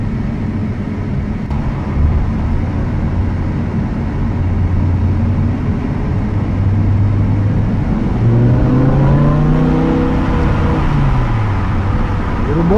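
A BMW M6 sports car engine drones steadily while driving through the Verzasca valley, with rising and falling harmonic tones as it accelerates near the end, a continuous close in-cabin hum at moderate loudness.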